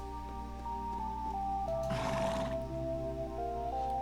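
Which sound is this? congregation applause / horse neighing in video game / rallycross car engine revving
horse neighing in video game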